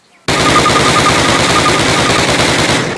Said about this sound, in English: Fire 10 rounds at your target. First from the hip, then aiming down the gun sight.